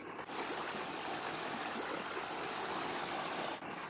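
Outdoor water flowing steadily on a farm with wooden raised garden beds, where a child plays in it; a continuous, fairly loud broadband rush and splash with no speech.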